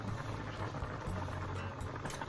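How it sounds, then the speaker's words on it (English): Vegetables simmering in a pot for Dominican-style spaghetti give a steady, faint bubbling and low burbling that stays even throughout with no talk. "So that's been simmering for about 5 minutes"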